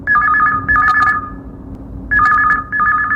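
Telephone ringing on a Chhattisgarhi-song radio call-in show: two loud, close bursts of trilling electronic ring, each a pair of warbling pulses, separated by a short pause with steady background hum.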